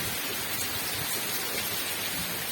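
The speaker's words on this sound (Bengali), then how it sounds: "ধরো হওয়াও দিচ্ছে বৃষ্টিও সাংঘাতিক হচ্ছে" Heavy rain driven by wind makes a dense, continuous broadband roar, steady and enveloping with no distinct drops or pauses.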